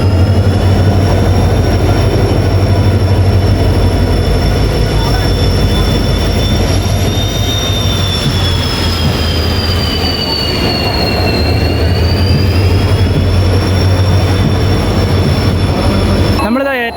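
A train rolls steadily into Nilambur railway station, its carriages rumbling loud and close while a high wheel squeal holds throughout the arrival, without talk.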